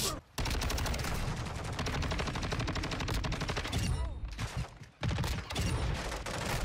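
Rapid repeated gunfire from a semi-automatic weapon in the video game Modern Warfare 2, dense loud bursts with two brief pauses, no speech.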